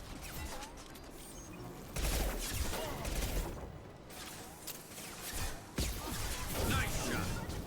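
Sniper rifle fire in Mass Effect 2 cracks out as several sharp shots over a busy game soundscape, with loud bursts near two and six seconds and voices talking throughout.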